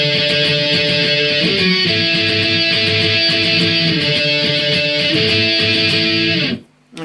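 A dense, distorted electric guitar strummed hard in a tight driving rhythm, playing an interlude, loud and continuous before cutting off abruptly near the end.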